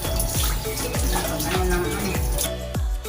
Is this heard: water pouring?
yes